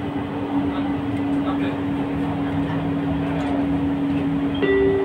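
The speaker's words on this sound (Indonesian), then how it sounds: "Doors are closing. Please stand clear of the train doors." An LRT Jabodebek light rail train on the Cibubur Line hums steadily with a constant electrical drone and rolling rumble, ending in a brief tonal chime. A recorded announcement plays over it.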